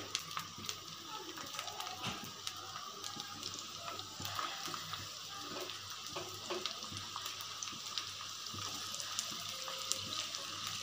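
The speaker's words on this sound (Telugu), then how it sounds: "ఇప్పుడు మనం ముందుగా కట్ చేసుకున్న ఆనియన్స్ని గోల్డెన్ బ్రౌన్ కలర్ వచ్చేంత వరకు ఫ్రై చేసుకోవాలి" Chopped onions frying in hot oil until golden brown, a steady faint crackling sizzle with scattered pops, heard alone without talk.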